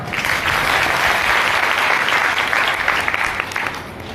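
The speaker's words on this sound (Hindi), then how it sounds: "परम सत, जोरदार ताली।" Loud applause from an audience at an ashram gathering, a dense burst of many hands clapping together, sustained steadily and tapering slightly at the end.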